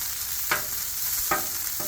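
Steak frying on a Blackstone griddle gives a steady close sizzle, broken by a few soft scraping stirs, with no voices.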